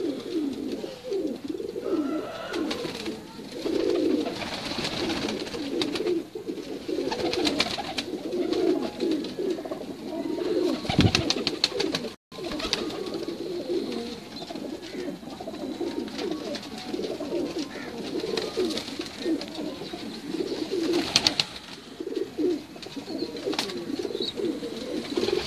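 Pigeons coo steadily on a rooftop, their soft, overlapping calls layered with light bird chatter throughout, fairly close and continuous.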